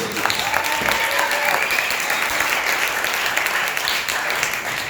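A live audience applauds steadily for a guest speaker at a KosherBoyz event, dense continuous clapping filling the room at close range for about five seconds with no clear speech.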